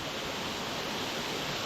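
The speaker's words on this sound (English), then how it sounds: "so here I am, bottom of Greenland Creek Falls." Waterfall at the bottom of Greenland Creek Falls, a broad, steady roar of falling water close by, loud and unbroken with no voices.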